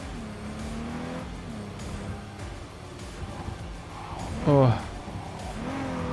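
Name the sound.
car driving in video game Cyberpunk 2077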